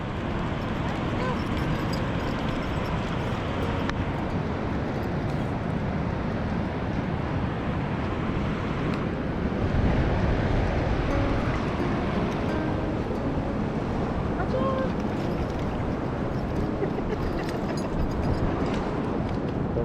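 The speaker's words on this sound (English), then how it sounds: "Turn your back on the waves, Max." Ocean surf at Long Beach, Washington, rolls and breaks onto the beach in a continuous, loud, washing roar.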